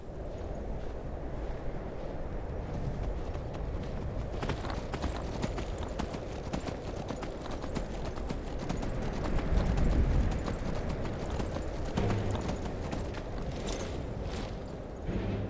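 Horse hooves clip-clop steadily in Skyrim, a continuous rhythmic trot over a windy outdoor bed that runs the whole way through with no break.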